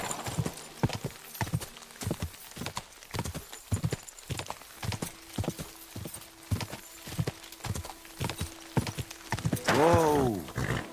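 A horse galloping in Kingdom Come Deliverance 2, close hoof clip-clops in a quick regular rhythm across the clip, ending in a loud neigh near the close, with a faint voice in the background.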